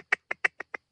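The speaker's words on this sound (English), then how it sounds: "All wood ducks." Five short, squeaky calls from wood ducks come in quick succession, close and clear against silence.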